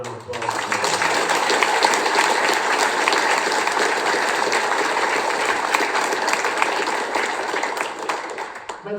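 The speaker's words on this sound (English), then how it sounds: "Let's have another round of applause." A large audience at a morning interfaith Thanksgiving prayer gathering applauds steadily and loudly for about nine seconds, a thick, even wash of many hands clapping with no letup.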